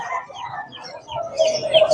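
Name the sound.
chicken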